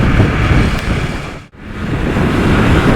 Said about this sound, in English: There is a bit of wind around today